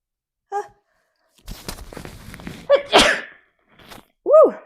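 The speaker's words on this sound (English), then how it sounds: "I have to sneeze." A single loud, close human sneeze bursts out after a soft breath and an inhale, followed by a short exclaimed voice.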